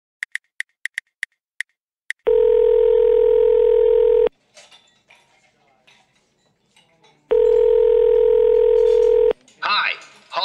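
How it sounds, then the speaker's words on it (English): A telephone is dialed with a quick run of short keypad beeps, then a loud steady dial tone sounds twice with a quieter gap of faint clicks and noise between the two tones. "I am going to phone the lawyers."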